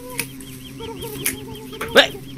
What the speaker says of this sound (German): Das Huhn, es frisst die Beeren!